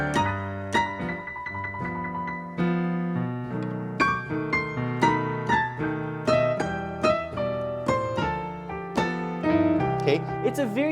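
Gospel-style piano played with driving power octaves in the bass under full chords, a steady run of strong struck notes lasting about eleven seconds, close and clear.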